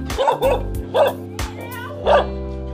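A dog barks four times in short, spaced yaps, fairly close, with no other sounds between the barks.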